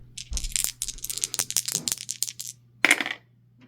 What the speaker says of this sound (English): Roll both dice and move back.